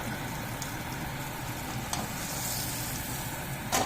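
Butter melting in a pan for a white sauce, giving a soft steady sizzle and crackle with a few faint clinks, quiet and close with no talk.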